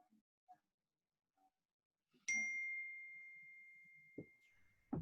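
A phone notification chime goes off during a Zoom call, a single clear ding that rings on and slowly fades, with a few faint taps and clicks around it and no talk.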